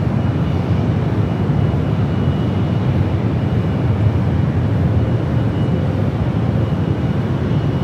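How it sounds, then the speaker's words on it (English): Boeing 787 Dreamliner touching down on runway 28 at San Francisco airport, a steady broad roar of jet engines and rushing air, loud and unbroken throughout. "Dreamliner touching down on the 28s."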